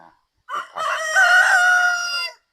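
A single rooster crows loudly and close on a farm with vegetable plots, one long drawn-out call after a brief lead-in, then silence.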